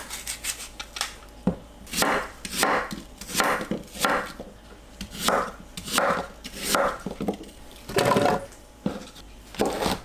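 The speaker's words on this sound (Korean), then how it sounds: "사과는 씨앗을 제거하시고 큼직하게 썰어주세요." A knife cuts a seeded apple into large chunks on a cutting board for kimchi seasoning, giving a series of crisp, close chops in an uneven rhythm with short pauses between cuts.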